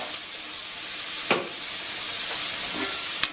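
Onions sautéing with salt and curry leaves in a pan, a steady soft sizzle running throughout with a few sharp clinks of a spoon against the pan, close and fairly quiet.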